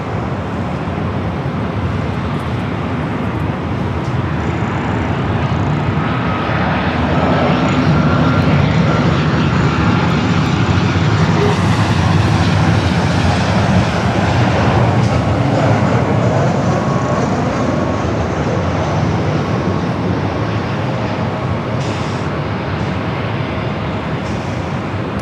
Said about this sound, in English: Little old 737-700 with WestJet.